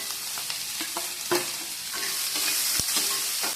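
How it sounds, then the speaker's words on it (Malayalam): Mustard seeds spluttering and popping in hot coconut oil in a pan, a steady frying sizzle broken by scattered sharp crackles and pops, close and alone with no voices. "കടുക് പൊട്ടിക്കാനായിട്ട് ഇത്തിരി വെളിച്ചെണ്ണ ഒഴിക്കുക"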